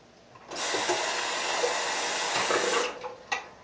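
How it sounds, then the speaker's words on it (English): A water tap runs while a face is rinsed after shaving, a steady close hiss of flowing water lasting about two and a half seconds before shutting off, with a small splash at the end. "Just gonna rinse the face real quick."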